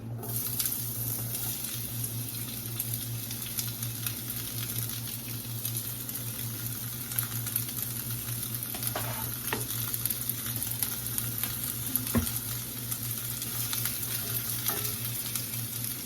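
Onions frying in a pot as the base for homemade cream of mushroom soup, a steady close sizzle with a constant hum beneath and occasional light clicks and scrapes.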